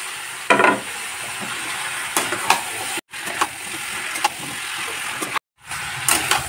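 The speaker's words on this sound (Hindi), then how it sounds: "मसाला अच्छे से भून लिया है, इसमें आलू और गोभी डाल देती हूँ।" Potato and cauliflower pieces frying in masala in a pan give a steady broadband sizzle, with scattered stirring scrapes and two brief drop-outs, no voices.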